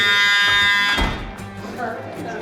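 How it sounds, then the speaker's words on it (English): An electronic alarm at an airport luggage area buzzes loud and close with a harsh tone, then cuts off abruptly after about a second as the noisy room carries on. "Told you we'd set off some alarms."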